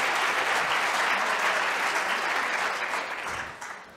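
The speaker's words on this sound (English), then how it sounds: "Applause for the two gentlemen." A conference audience at an opening session in Vienna claps for the two hosts, a broad, even burst of applause that holds steady for a few seconds, then fades out.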